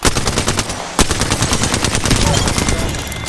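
Loud, close automatic gunfire in Apex Legends rattles in rapid bursts, with a sharp crack at one point and a steady drumming of shots throughout.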